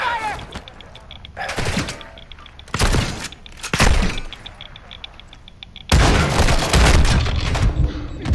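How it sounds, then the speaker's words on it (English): Call of Duty gunfire rings out in loud, sharp bursts, with several separate volleys followed by a sustained stretch of heavy shooting near the end, all close and dominant. "Taking effective fire."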